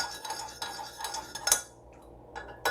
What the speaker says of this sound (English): Okay, so I'm going to stir it.